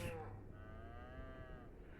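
In the Farming Simulator 25 video game, a starving cow being fed hay bales gives one long, steady moo over a low background hum, moderately near.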